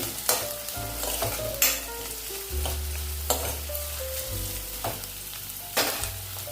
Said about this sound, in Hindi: थोड़ा सा पत्ता गोभी, थोड़ी सी शिमला मिर्च, अच्छे से मिक्स कर लेंगे